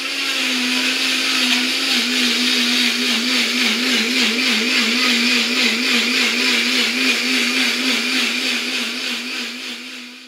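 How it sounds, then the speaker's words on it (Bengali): An electric mixer grinder whirs loudly and steadily, blades pulverising papaya peel into a fine paste, with a wavering motor pitch throughout and no talk. "এই যে পেঁপের খোসাটা, এটাই হচ্ছে মিক্সারে দিয়ে একটা পেস্ট তৈরি করব, মিহি পেস্ট।"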